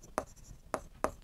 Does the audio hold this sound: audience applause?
no